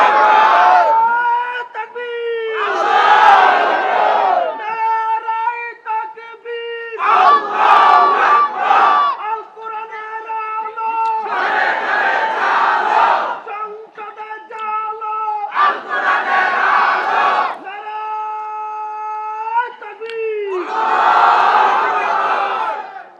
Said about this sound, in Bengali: দাও না তাকবীর, নারায়ে তাকবীর